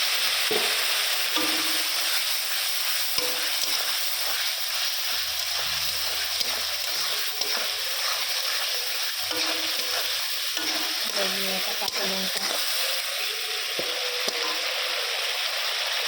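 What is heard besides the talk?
ginger paste and green chili frying in a pan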